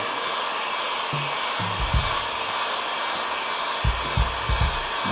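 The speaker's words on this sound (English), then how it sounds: "So you get a heat gun." A heat gun blows hot air over foam core board with a steady, loud broadband rush, while low handling bumps and thumps sound underneath from the board being worked.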